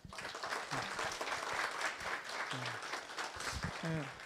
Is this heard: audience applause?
yes